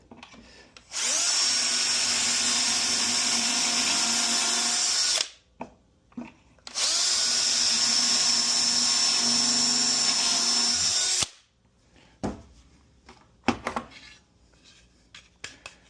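A power drill with a depth-set bit whines steadily through two long bores into wood for an aquarium stand, loud and close, followed by a few short clunks and handling knocks.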